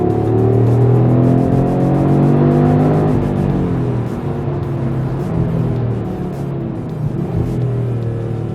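An Audi RS3 pulls hard under acceleration, its engine droning loud and close while the automatic gearbox shifts on its own, each rising engine note dropping back as the next gear engages.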